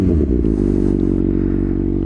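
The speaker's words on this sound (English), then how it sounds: "Let's give her a nice big rev" A Kawasaki ZX6R sport motorcycle with a newly flashed ECU, its engine held at a loud, steady, buzzing high rev close by after a brief rough rise at the start.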